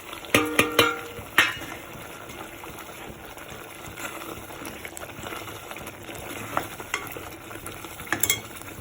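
Spice powder being stirred into boiling tamarind pulikachal, with a few sharp utensil knocks against the pot at the start and near the end over a continuous low bubbling simmer.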